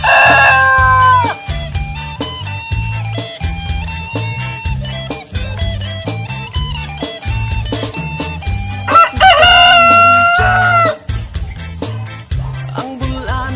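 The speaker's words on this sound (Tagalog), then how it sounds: "Dala-dala ko na po yung aking mga manok." Roosters crow loudly and repeatedly over clucking chickens as breeder fowl are carried to a new home, with a steady insect-like trill running underneath and no one talking.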